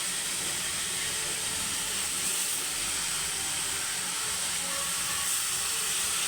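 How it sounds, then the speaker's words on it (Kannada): Chopped tomatoes hitting a hot pan for rasam, producing a steady, loud hiss of sizzling that stays even throughout with no voices. "ಇವಾಗ ಟೊಮೆಟೊ ಹೆಚ್ಕೊಂಡಿರೋ ಟೊಮೆಟೊನ ಹಾಕ್ತಾಯಿದ್ದೀನಿ"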